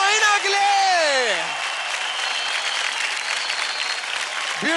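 Studio audience applause on a televised Indian dance competition show, loud and sustained, with a host's voice speaking over the opening moments and briefly again at the end.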